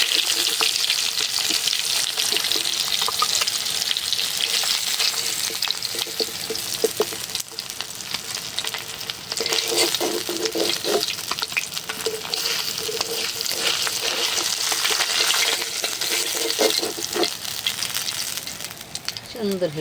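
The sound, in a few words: fish frying in a pan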